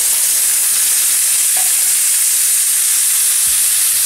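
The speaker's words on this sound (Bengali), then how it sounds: "উপরে ঢেলে দিন এভাবে সিজলার সস।" Sizzler sauce poured onto a very hot chicken sizzler plate, producing a loud, steady, close hiss of sizzling steam that holds throughout.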